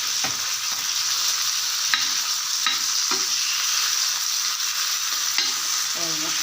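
Fish frying in oil in a pan, a village-style fish fry: a steady, close hiss of sizzling oil runs throughout, with occasional soft pops and light scraping touches, no talking.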